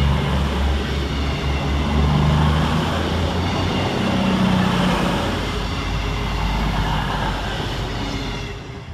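A Class 221 CrossCountry train, unit 221-119, runs through Duddeston railway station. A loud, steady rumble of wheels and engine with sustained tonal hum carries on unbroken for the whole stretch, with no voices.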